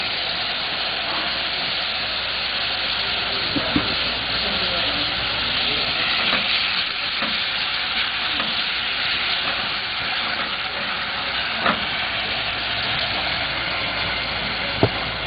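Arborio rice and aromatic herb oil sizzle steadily in a pan while being stirred, with a continuous hiss and occasional small clicks of utensil against pan.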